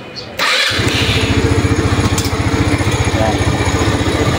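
A Rusi Rapid motorcycle with a freshly installed engine and a stalling-at-idle fault starts up abruptly and settles into a loud, close, rhythmic idle that keeps running without dying.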